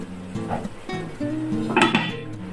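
Metal lid set onto a cooking pot of braised pork belly with eggs, a few close clinks and a brief clatter over low kitchen background.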